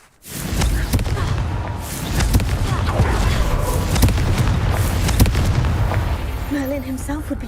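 Confringo blasting spell explosions in Hogwarts Legacy, a dense sustained rumble of booms and crackling impacts with sharp transient hits layered throughout, loud and continuous, while a voice speaks briefly.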